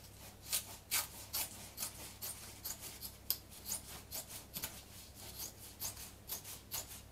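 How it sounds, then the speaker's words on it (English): Scissors or a blade snip through foam padding inside a Maxpedition Condor II backpack strap, making a steady series of short, soft cutting and rasping strokes, close but quiet, with no talk. "I've got to cut more to get the foam out of that."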